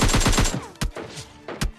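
Rapid automatic gunfire from a shooter video game, a quick burst of close shots followed by a few separate louder single cracks.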